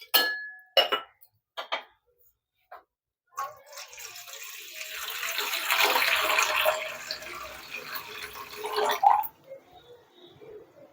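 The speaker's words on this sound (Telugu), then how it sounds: "ఇక ఫైనల్గా ఈ దీంట్లో కొద్దిగా వాటర్ పోసుకుని చేతులు పెడతా ఇందులో." In a home kitchen, a few sharp clinks of a dish ring out, then water pours into a bowl for hand washing in a rising, splashing gush that ends with a faint clink.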